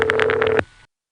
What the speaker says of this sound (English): We phone freaks call it Canada ring.